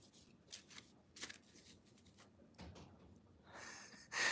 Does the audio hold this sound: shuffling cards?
yes